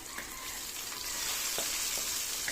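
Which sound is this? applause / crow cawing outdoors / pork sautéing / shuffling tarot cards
pork sautéing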